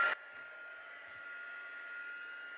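A heat tool blows hot air in a steady, faint whooshing hiss that continues evenly after a brief louder burst at the start, with a couple of small clicks.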